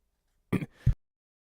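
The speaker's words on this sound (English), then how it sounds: "I got a cough" A short double cough, two quick harsh bursts close to the microphone, followed by silence.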